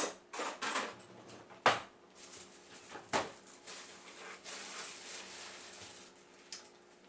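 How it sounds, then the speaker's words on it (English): Homemade juice sweetened with honey stirred with a spoon in a glass or jug, bright clinks and taps against the sides, several sharp knocks among softer scraping, close and fairly quiet. "so now I'm just gonna stir"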